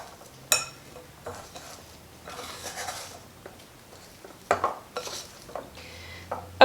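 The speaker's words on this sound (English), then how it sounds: "I'm gonna clean the edges of my bowl." Scraping and tapping as a spoon or spatula cleans the edges of a mixing bowl holding shaggy pizza dough for pan pizza: quiet, irregular scrapes and knocks with short pauses between strokes.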